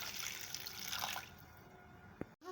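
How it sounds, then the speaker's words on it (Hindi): Water poured into a pan holding pieces of jaggery, a quiet splashing, hissing pour that runs for about a second before fading, ending with a small clink. "अब हम पैन में पानी ऐड करेंगे।"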